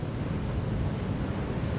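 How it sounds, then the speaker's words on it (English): Powerful surf waves jacking up steeply on a sandbank during a women's surfboat race final in Australia, a continuous loud wash of breaking water and wind rumble with no voices. "Very, very powerful waves."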